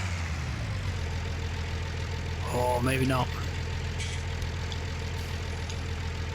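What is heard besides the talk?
tractor engine in video game Farming Simulator 19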